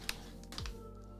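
Quick bursts of typing on a computer keyboard being set up alongside a mouse, a few close, sharp clacks spread over a second or so in a quiet room.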